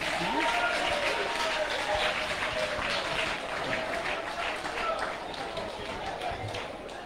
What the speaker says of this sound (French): Acclamons pour la JCC